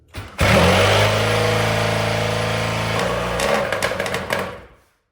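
A Yamaha Banshee 18DMX ATV, just after carb cleaning and still cold, fires up after a brief crank and holds a loud, buzzy two-stroke rev before the throttle drops off into a few uneven blips and fades out.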